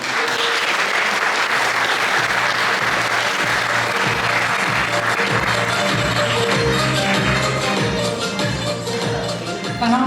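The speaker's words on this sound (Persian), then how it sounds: "لطفاً با کف زدن‌های گرمتان از ایشان استقبال کنید" A crowd at a cultural day gathering applauds steadily to welcome Ms. Nirab Karimi as she comes up to recite poetry, dense clapping filling the room at an even level throughout.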